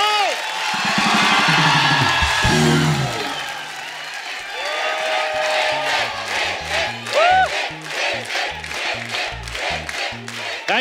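A television comedy show's studio audience greets Hrithik Roshan with loud, sustained applause, cheering and whoops that fill the room from start to finish, with music underneath and shouts rising above the crowd.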